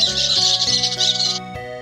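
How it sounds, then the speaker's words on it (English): Pet budgerigar chirping in a bright, rapid warble of short tweets over a soft musical backing, close and fairly loud, stopping just before the end. "budgerigar"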